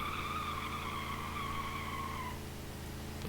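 A Gavril Barstow with a 423 V8 spins a single rear tyre in a one-wheel burnout in BeamNG.drive: a loud, steady, high tyre squeal over a constant engine drone for about two seconds, then the squeal stops and the engine runs on alone.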